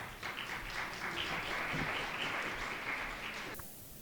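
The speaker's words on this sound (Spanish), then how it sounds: "La motivamos con un fuerte y caluroso aplauso" An audience claps warmly to welcome a speaker at a lecture on religious figures in official precedence, a full round of applause that stays steady before cutting off abruptly near the end.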